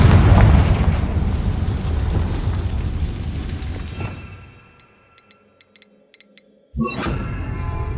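A Confringo spell explosion in Hogwarts Legacy, a heavy booming blast that rolls and fades over several seconds into near quiet with a few faint ticks, then a sharp new burst of sound.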